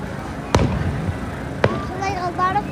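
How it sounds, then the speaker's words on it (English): Fourth of July fireworks at North Cape May burst in two sharp separate booms a second apart, moderately distant, with people chattering in the background between the blasts. "So like a lot of fireworks go."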